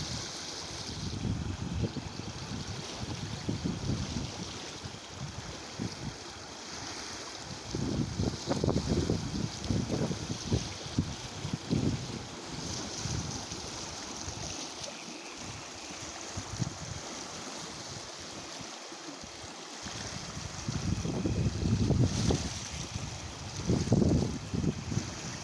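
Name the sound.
stream flowing in spate after early morning rain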